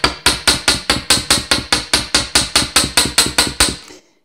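A quick run of about fifteen sharp, evenly spaced hammer strikes on metal wire against a hammer block, loud and close, ending abruptly.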